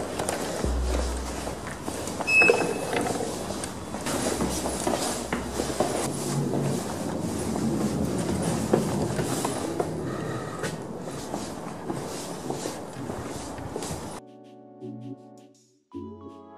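Riding on a moving train, with a steady broadband rumble of the carriage running continuously for about fourteen seconds, a few brief knocks and rattles on top, before cutting abruptly to a quiet tail.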